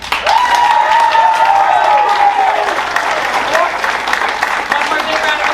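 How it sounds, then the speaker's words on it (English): Enthusiastic audience applause for graduating seniors at a school music awards ceremony, continuous clapping with crowd noise and a few cheers, while voices call out over it. "One more big round of applause for all of our seniors."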